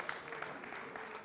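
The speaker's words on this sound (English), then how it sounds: "round of applause, ladies and gentlemen" Faint applause from a studio audience on a dating show, a soft, steady patter of many hands clapping heard from a distance.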